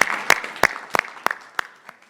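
Sparse, separate claps ring out at a live design case-study session, about seven sharp hits spaced unevenly over a couple of seconds from a small group. The claps sound fairly close and are not joined by voices.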